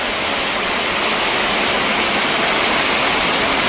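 Floodwater pours steadily out of a flooded house, a broad continuous rushing wash like a waterfall, loud and close, with no break across the few seconds and no talking over it.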